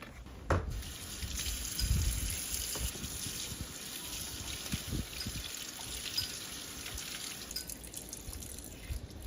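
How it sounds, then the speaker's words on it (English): A tap runs outdoors while a car interior part is washed under it. A soft, uneven splash and trickle continues throughout, with a few louder knocks and splashes as the piece is handled. "Gonna take this piece out and wash it."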